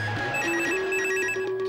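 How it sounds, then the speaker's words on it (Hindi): A telephone rings continuously with a warbling electronic tone, loud and close, with no voices. "फोन आया।"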